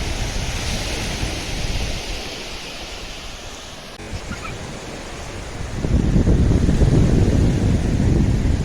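Sea waves rolling in at high tide on Rangaon Beach in Vasai, a continuous roaring surf with wind buffeting the microphone that swells louder in the last few seconds, with no voices.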